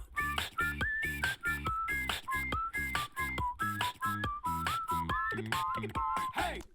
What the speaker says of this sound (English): And then we go into this great 3-part whistling